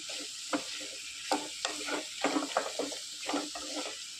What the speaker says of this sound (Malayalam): മുരിങ്ങയ്ക്ക മുറിച്ച് വെച്ചിരുന്ന ഇതിലേക്ക് ചേർത്ത് കൊടുക്കാം നന്നായിട്ടൊന്ന് ഇളക്കി യോജിപ്പിക്കുക